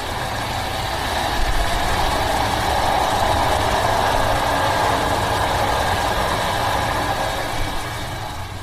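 The La Dolce Vita Orient Express, a luxury train crossing Italy, gives a steady broadband rumble of running on the rails. The roar is continuous and fairly loud, with no talk.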